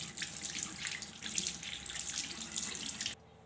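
Tap water pours steadily and fairly loudly into a sink for about three seconds, then cuts off abruptly, with no talking.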